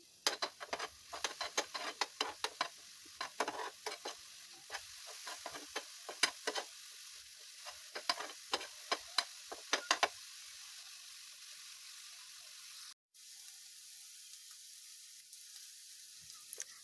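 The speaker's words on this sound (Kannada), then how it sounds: "ಸೊ ದಟ್ ಫಸ್ಟ್ ಪ್ಯಾನಿಗೆ ಗ್ರೈಂಡ್ ಮಾಡಿರೋ ಅಂಥ ಆನಿಯನ್ಸ್ ಹಾಕಿ ಗೋಲ್ಡನ್ ಬ್ರೌನ್ ಆಗೋವರೆಗೂ ಫ್ರೈ ಮಾಡ್ಕೋಬೇಕು." Ground onions fry in a pan, with a soft sizzle under scattered sharp stirring clicks and scrapes that are busy at first and then thin out into quiet frying without speech.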